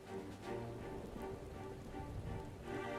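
Rain in the video game Final Fantasy XIV: a steady, soft patter of drops falling on surfaces. It stays faint and even throughout, with no talking.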